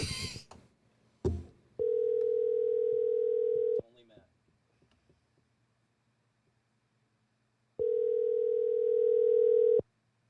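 A telephone dial tone sounds twice while a number is being called, each steady tone lasting about two seconds, with brief handling noise and clicks between them and no talk.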